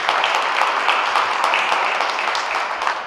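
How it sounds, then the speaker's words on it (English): Sustained applause from an audience at an African-Caribbean summit, dense and steady across the whole stretch with no talking over it. "See, the clapping does magic."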